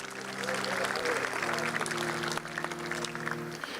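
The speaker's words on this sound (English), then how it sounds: "round of applause for these gentlemen" An audience applauds continuously at a high school rugby capping ceremony, with steady clapping throughout and a voice over it.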